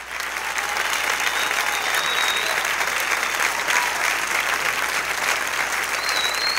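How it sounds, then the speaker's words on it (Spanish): A church congregation at a convention claps loudly and continuously, with dense, steady applause filling the room from start to finish. "Denle un aplauso al Espíritu Santo de Dios."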